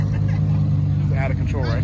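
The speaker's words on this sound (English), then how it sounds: "This dude is revving the engine with snakes." A car engine drones with a deep, steady rumble, close and loud, running throughout the short stretch while someone speaks over it.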